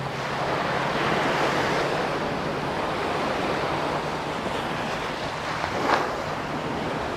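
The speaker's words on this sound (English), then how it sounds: "That wave nearly got me." Ocean waves wash steadily onto Jomtien beach in Thailand, a continuous broadband surf roar with wind across the microphone and one brief splash near the end.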